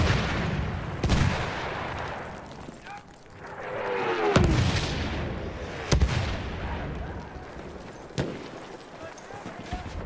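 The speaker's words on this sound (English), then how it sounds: "Wait for the enemy artillery barrage to stop firing." Artillery barrage firing in a Lebel multiplayer video game match: repeated booming impacts and sharp blasts at irregular intervals over rumbling battle noise, with voices heard throughout.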